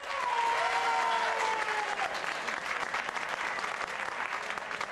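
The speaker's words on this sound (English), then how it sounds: "those of you who don't want Paul to ask a question, clap your hands." A studio audience on a late-night talk show claps hands in sustained, dense applause, loud and steady throughout, with a faint tonal whistle or cheer sliding over it early on.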